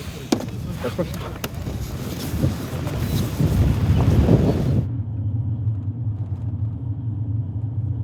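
A car driving along a road in the Mishkinsky district of Bashkortostan, a steady low engine and tyre rumble with wind noise that turns quieter and muffled partway through, as if heard from inside the cabin.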